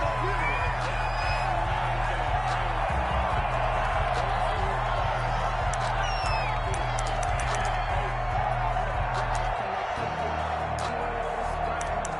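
Steady stadium crowd roar and cheering in a football video game before a Miami Dolphins versus Jacksonville Jaguars matchup, a continuous wash of crowd noise over low droning game ambience.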